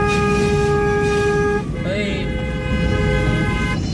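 Car horns blare on an old highway in a traffic jam: one long steady honk, then a shorter higher toot, over constant road rumble with talk in the background.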